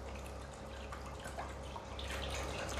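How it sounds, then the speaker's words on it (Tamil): Packet milk pours steadily into a heated pot, a continuous close liquid splash and trickle that grows slightly louder toward the end, with no voices. "இந்த பாலை வந்து அப்படியே ஆட் பண்ண வேண்டியது"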